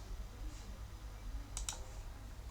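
Computer mouse clicks when a test connection button is pressed, a few faint, sharp clicks close together followed by one more, against a quiet room background.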